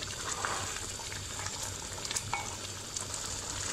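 Mutton pulao rice being stirred in a cooking pot, a continuous sizzling, scraping rustle with occasional louder scrapes of the spoon, close and steady without any talk.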